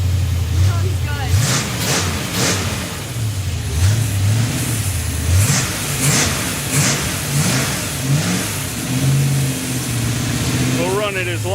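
A rebuilt 283 engine runs loud and close, revving up and dropping back repeatedly in uneven surges over a rough idle.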